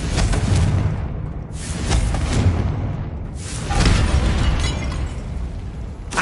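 Confringo blasting spell explosions in the Hogwarts Legacy video game, several loud booming blasts with crackling bursts, each swelling and fading, about two seconds apart.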